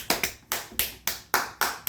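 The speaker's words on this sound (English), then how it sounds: "Give yourself a big round of applause." A round of applause from students, heard as about seven distinct, evenly spaced sharp claps in quick rhythm, close and clear with nothing else around them.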